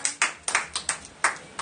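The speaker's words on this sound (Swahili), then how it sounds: "tupigie Bwana makofi makubwa" A congregation at a church prayer service claps hands together in a quick, steady rhythm, about seven sharp, close claps over a moment with no talking.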